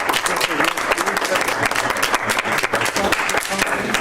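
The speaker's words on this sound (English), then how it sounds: "you deserve a round of applause." Attendees at a shared services meeting give a sustained round of applause, dense and even clapping from many hands that stays loud throughout.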